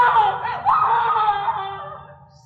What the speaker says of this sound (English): I heard her screaming.